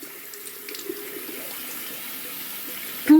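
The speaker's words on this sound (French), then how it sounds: "je viens à rincer abondamment" Tap water runs steadily into a sink while a face is rinsed during a makeup-removal routine, a soft continuous hiss and trickle that ends in a brief louder splash.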